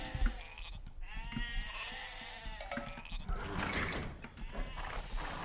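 Sheep in an Age of Empires match give several wavering bleats in quick succession, fairly clear over faint game effects and clicks.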